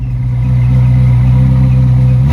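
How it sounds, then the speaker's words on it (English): A Corvette Z06 V8 in neutral with the roof down rumbles loud and steady at idle, then its pitch starts climbing sharply at the very end as the revs begin to rise. "When you're in neutral, if you pull both paddles, you can rev the engine right up to its max."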